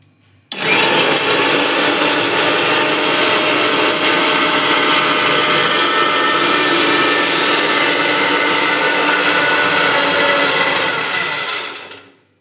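A mixer grinder whirs at full speed blending masala spice paste for home cooking, a loud, steady motor roar that starts abruptly and runs unbroken for about twelve seconds before cutting out.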